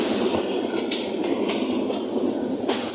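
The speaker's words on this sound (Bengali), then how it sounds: "আমি ট্রেনের বাইরে আপনাদের ভিডিও করে দেখালাম এটা হচ্ছে রংপুর এক্সপ্রেস ট্রেন" Loud, close rumble of the Rangpur Express passenger train running along the tracks, with steady roaring noise and faint rhythmic clicks of wheels, recorded from outside the train.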